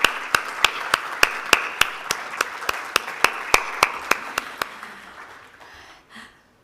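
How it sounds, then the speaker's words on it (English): An audience at a summit gives a round of applause for the speakers, with a steady run of sharp, evenly spaced claps over a softer clapping wash that tapers off and fades out. "A big round of applause for all our speakers"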